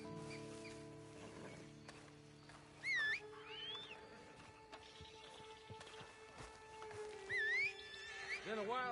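Horse in a video game whinnies and snorts twice amid ambient game sound, with music and low rumbling underneath and a person speaking at times.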